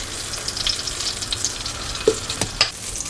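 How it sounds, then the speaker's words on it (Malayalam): Cumin seeds fry in hot oil with a steady, close sizzle, broken by a few sharper pops and crackles as the seeds hit the heat. "എണ്ണ ചൂടായി കഴിയുമ്പോൾ കുറച്ച് ജീരകം ചെറിയ ജീരകമാണേ"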